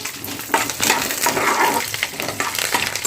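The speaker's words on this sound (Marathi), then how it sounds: "पहिला तर आपण कढीपत्ता घालूया, त्यानंतर खोबरं घालूया आणि याला पण आपण छान असं तेलामध्ये फ्राय करून घेऊया" Curry leaves and grated coconut fry in oil for a garlic chutney, giving a steady crackling sizzle with brief louder bursts as they are stirred, close and with no voices.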